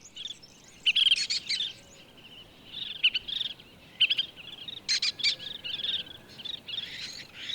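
Nervous birds call repeatedly on open farmland after spotting lesser kestrels, a run of bright, fairly loud chirps and sharp calls in bursts, some overlapping, over a steady low background.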